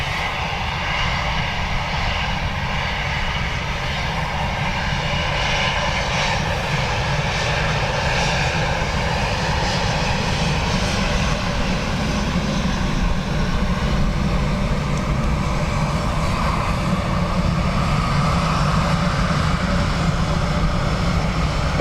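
Airliner taking off from runway 10 right at Dublin Airport, a steady, loud roar of engine noise lasting throughout with broad rumble, no voices over it.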